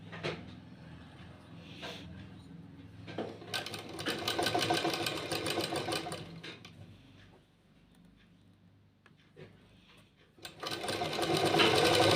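Sewing machine stitching lace onto the edge of a dupatta, running in loud, steady bursts with short pauses and a quieter stretch before it starts up again.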